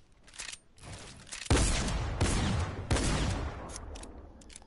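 Shotgun blasts from a new weapon in Fortnite: three loud, close booming shots spaced about a second apart, each with a lingering tail, following a lighter rattle of earlier fire.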